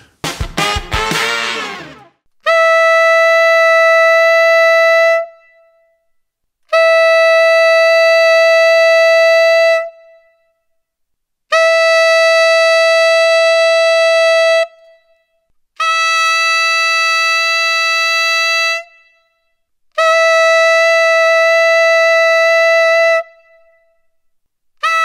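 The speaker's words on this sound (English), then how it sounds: "Here's 6 different fingerings for every altissimo note on tenor up to a double F." Tenor saxophone playing sustained altissimo notes, five long, loud, held tones separated by short silences, with no talking.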